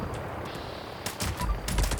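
A Two Shot Fixer rifle in Fallout 76 cracks off a few sharp, close shots in quick succession after a stretch of steady game ambience.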